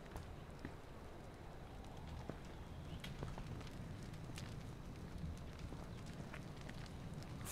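A fire burning in the H1Z1 battle royale video game crackles faintly with scattered small snaps over a low, steady rushing background.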